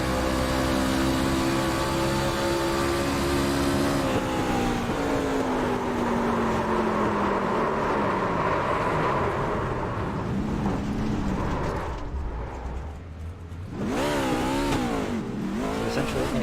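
Onboard engine of race truck number 17 at Gateway in a racing video game, loud and close. It climbs through gear changes, drops off as the truck slows with faint tire squeal, then revs sharply again toward the end.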